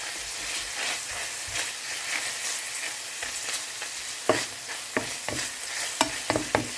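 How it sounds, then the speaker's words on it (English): Minced pork fries in a pan with a continuous sizzle, while a spatula scrapes and stirs and knocks against the pan several times near the end. "Let it cook for 2 to 3 minutes. Just continue on stirring."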